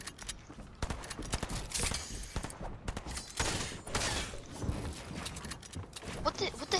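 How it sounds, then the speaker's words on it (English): Rapid bursts of combat assault rifle fire in a shooter video game, loud and dense with repeated crackling shots and mechanical clatter, under game effects and some talk. "I'm gonna start shooting"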